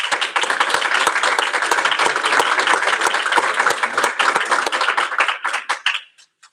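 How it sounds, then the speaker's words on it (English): An audience at an electrical maintenance graduation ceremony applauds, dense steady clapping from many hands that thins out and stops after about six seconds. "please join me in a round of applause to acknowledge our students' accomplishments"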